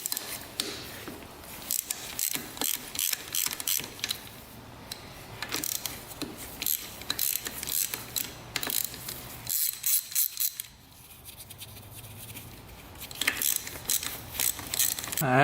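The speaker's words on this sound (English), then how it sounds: "So these are just 12mm bolts up here for the head. Let's get those off." A hand ratchet clicks in quick repeated bursts while loosening the 12mm cylinder head bolts on a Suzuki RMX 250 dirt bike engine, close and clear, with short pauses between bolts.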